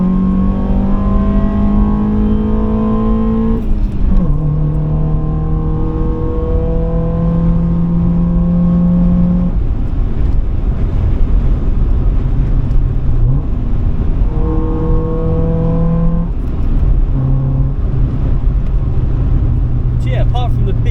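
A Honda Civic D series engine revs hard under acceleration, its note climbing then dropping sharply as gears are shifted down, loud and close from inside the car and continuous for the whole run.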